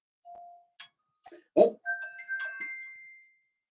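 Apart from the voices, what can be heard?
phone alert sound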